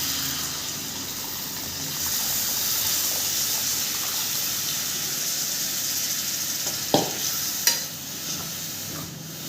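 Tamarind water poured into a hot masala base for small bitter gourd puli kulambu, a steady sizzling hiss with stirring and a couple of sharp clinks near the end, no talking.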